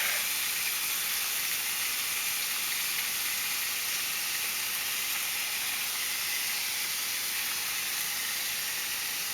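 Bacon fries in olive oil in a pan, giving a continuous even hiss that stays dense and unchanging the whole time.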